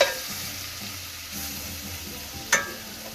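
Beef and broccoli simmering over lowered heat in a pan, giving a soft continuous sizzle with a single brief scrape or clink near the end, no talking.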